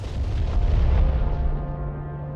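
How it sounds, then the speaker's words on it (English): A mortar fires in the tactical video game Broken Arrow, a single deep, loud boom whose rumbling tail fades over a couple of seconds. "so mortar did his shot"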